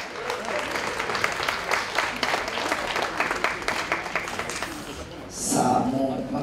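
Audience applause welcoming a guest onto the stage at a Japanese live event, a lively round of clapping that fades near the end as a voice starts speaking.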